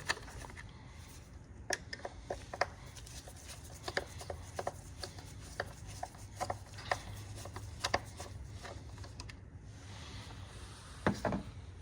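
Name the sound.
removing two screws with a screwdriver on a Honda CR-V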